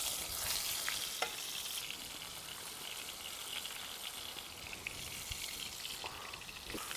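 Cod fillets fry in a pan of foaming butter, giving a steady, close sizzle with a few scrapes and clinks as the fish is flipped, with no talking.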